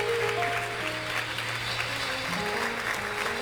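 Church congregation applauding during a Spanish-language sermon, a steady dense wash of clapping that holds throughout with a faint low hum beneath and no speech.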